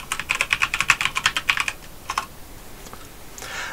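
Rapid typing on a computer keyboard, a quick run of crisp clicking keystrokes followed by a few scattered taps, close and clear against a quiet room hiss.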